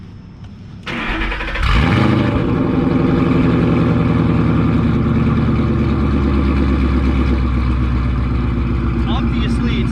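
A modified S197 Ford Mustang with a Corsa Extreme axle-back exhaust, long-tube headers, high-flow cat and resonator deletes fires up loudly after a brief quiet moment, then settles into a deep, steady, rumbling idle close by.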